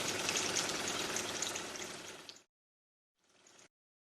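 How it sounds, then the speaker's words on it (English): A De'Longhi Magnifica bean-to-cup coffee machine is descaling, with water hissing and spraying through the steam nozzle. The spray runs steadily for about two and a half seconds, stops, then returns as a short, quieter burst. "The appliance carries out an automatic descaling procedure that takes approximately 15 minutes."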